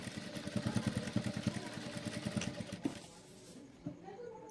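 A sewing machine stitches back and forth across a blouse neck in a quick rhythmic run of mechanical chatter, then stops. Faint handling noises follow in the quiet.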